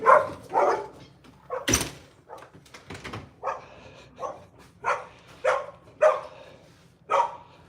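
Dogs bark in a series of sharp, loud, evenly spaced barks close by, with a door-like bang or thump early on and a low hum beneath.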